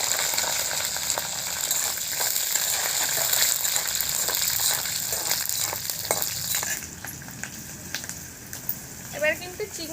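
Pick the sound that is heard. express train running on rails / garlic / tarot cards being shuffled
garlic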